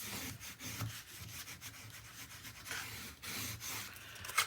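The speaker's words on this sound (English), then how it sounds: "now I'm going to give her a good old burnish" Soft repeated rubbing of a burnishing tool along a scored paper fold for a mini album, quiet papery swishes in an uneven back-and-forth rhythm, close up and free of speech.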